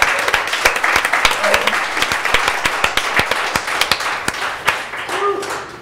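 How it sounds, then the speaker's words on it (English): A small group claps near a podcast microphone, sharp distinct claps in an uneven rhythm with a cheer and brief voices mixed in. "Give a round of applause."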